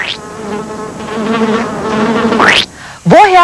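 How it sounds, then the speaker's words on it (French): A fly buzzes loudly and close by in a steady drone, and its pitch sweeps sharply upward near the end. "Comment la Dionée sait-elle que c'est une mouche qui s'est posée sur elle"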